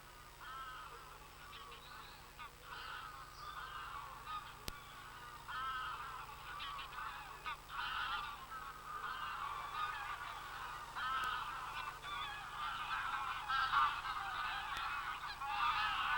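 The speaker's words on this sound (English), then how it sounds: "As the first snow powders the surrounding hills, graylag geese arrive from Iceland, driven out by the Arctic chill." Greylag geese arriving in autumn from Iceland to the Caledon hills, honking repeatedly in a noisy flock, dense overlapping calls throughout at moderate distance.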